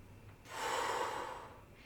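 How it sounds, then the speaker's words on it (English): A single deep breath during a gentle exercise, drawn in and let out as a loud, airy rush that swells and fades over about a second, close to the listener. "gently at first, inhale and exhale"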